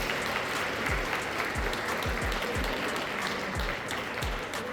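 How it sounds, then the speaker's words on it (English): Steady audience applause for a director at a school's 50th anniversary event, dense clapping from a crowd sustained throughout with a few low thumps underneath. "Let's give him a round of applause."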